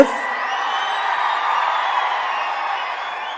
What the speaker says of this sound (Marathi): प्रचंड उत्साहाने लोक टाळे वाजवत आहेत